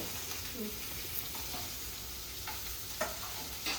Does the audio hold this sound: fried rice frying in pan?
yes